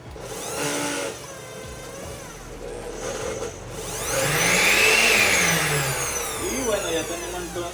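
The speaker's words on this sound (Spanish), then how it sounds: "Ya tenemos entonces lista nuestra licuadora reversible." Oster reversible blender running after a repair, a loud steady motor whir that rises in pitch and intensity midway, as if speed is changed, while a person talks over it.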